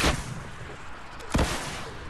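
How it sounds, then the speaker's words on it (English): Two gunshots fired into the air in Fortnite, a sharp crack at the start and another just past the middle, each standing out over a steady background hiss. "shoot up in the air and tell me how many shots you have"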